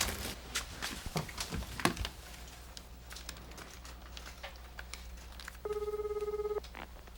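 Soft knocks and clatter fill a quiet room, then a telephone ringback tone sounds once for about a second on an outgoing call, steady and moderately loud.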